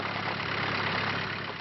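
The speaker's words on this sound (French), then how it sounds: "Il ronronne à l'huile végétale." A 4x4 engine running on vegetable oil idles steadily, a dense, continuous rumble that stays even and close with no voices over it.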